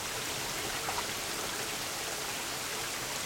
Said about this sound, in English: See the rain coming down.